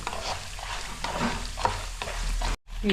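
Dried red chillies fry in hot oil for a Telugu tamarind pulihora tempering, giving a steady close sizzle with a few stirring scrapes, briefly cut off near the end.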